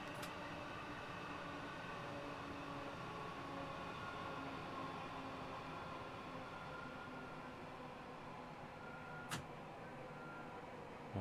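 A Southern Class 465 electric multiple unit in a train simulator runs steadily from Brighton toward London Victoria, a continuous rumbling rail drone with faint tonal hums, interrupted by two brief sharp clicks.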